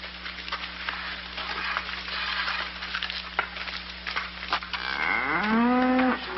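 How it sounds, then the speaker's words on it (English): A cow named Henry lets out a long rising moo near the end, loud and close, after several seconds of bustling background noise with a steady low hum. "And look at this big cow."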